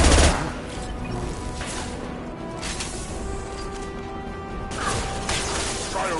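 Gunfire and shattering crates fill a PS4 video game battle, with dense bursts of shots, crashes and mechanical clatter running continuously and loudly throughout.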